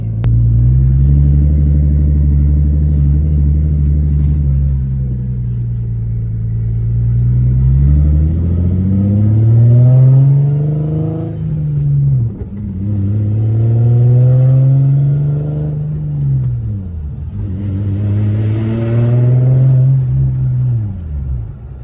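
A G37 engine rumbles near at idle, then gets several quick throttle blips that swing the pitch up and back down, loud and deep.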